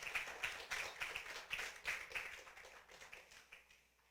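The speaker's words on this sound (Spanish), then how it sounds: "Denle una ofrenda de palmas al Señor." Church congregation claps together in praise, a rapid even patter of many hands that slowly fades, heard faintly at a distance without talk.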